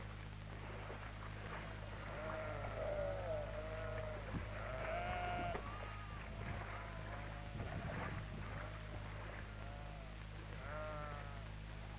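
Sheep at a 1960 ranch sheep dip bleat repeatedly, several animals calling near and far over a steady low hum and background noise.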